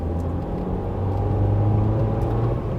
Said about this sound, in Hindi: ये काफी रिफाइन इंजन है और काफी साइलेंट गाड़ी है ये।